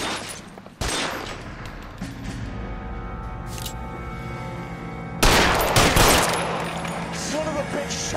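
Gunshots in the 1940s Los Angeles crime game LA Noire: a sharp shot, then another loud burst of close gunfire with ringing echoes over a low ambient backdrop.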